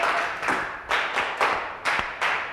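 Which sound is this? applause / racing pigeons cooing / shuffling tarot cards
applause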